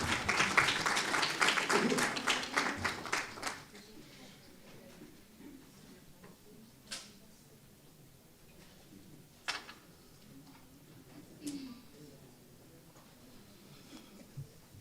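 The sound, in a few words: audience applause for speaker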